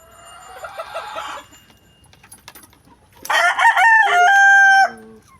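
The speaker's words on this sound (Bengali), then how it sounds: "মুরগির বাচ্চা আছে, অভাব নাই।" Chickens clucking in a short burst, then a rooster crowing loudly and close, long and tonal, at a village poultry yard where chicks are sold, with a quiet gap between, no talk.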